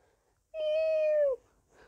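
A single cat meow in a video game, one clear drawn-out call lasting under a second, close and alone against near silence.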